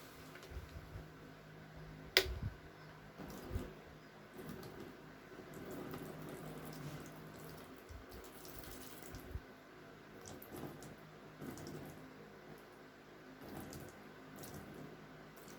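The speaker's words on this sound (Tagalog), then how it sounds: "And then rinse well the perineum and ties with water." Water trickles and splashes softly while a perineum and thighs are rinsed during perineal care in a delivery setting, faint and intermittent with one sharp click.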